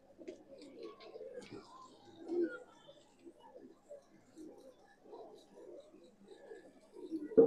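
Pigeons for sale at a pigeon market, including Punjabi and Madrasi breeds, coo in soft low repeated bursts through the clip, with a louder thump right at the end.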